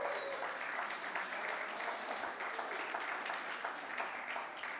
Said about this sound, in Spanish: Dale un aplauso al Dios por eso.